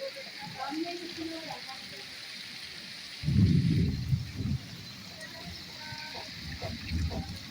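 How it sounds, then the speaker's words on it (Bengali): Heavy rain falls steadily as a broad hiss throughout, with a louder rushing burst of water partway through and faint voices in the background. "খুব জোরে খুব জোরে যে বৃষ্টি পড়েছে"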